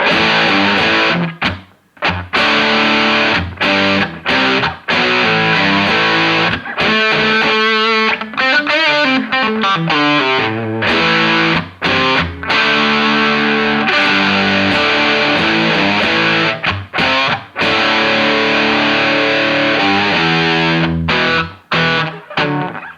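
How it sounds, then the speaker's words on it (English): Electric guitar played through a 1980s ProCo Rat II distortion pedal with all knobs at noon, loud, thick saturated chords and riffs with brief gaps between phrases, with no talking. "That sounds like distortion."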